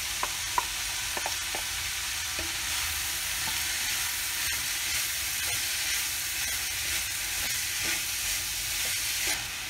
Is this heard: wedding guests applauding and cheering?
no